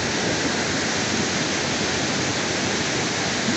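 Powerful village river waterfall pouring nonstop, a broad hissing roar heard up close that stays even and loud throughout, with no one talking.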